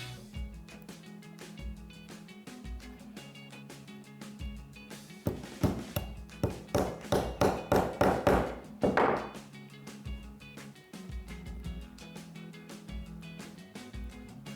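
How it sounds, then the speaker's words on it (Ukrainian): A hammer drives protruding nails into a wooden string-art board: a quick run of roughly a dozen sharp taps midway through, over steady background music. "Добиваємо цвяхи, які вискапують."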